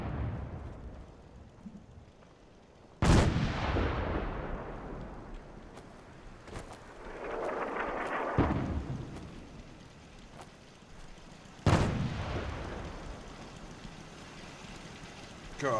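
Artillery fires in the video game Fallout 4: two sharp, heavy booms, each trailing a long rumbling decay, with a softer blast between them over steady low rumble. No voices.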